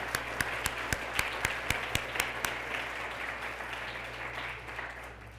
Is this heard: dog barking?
no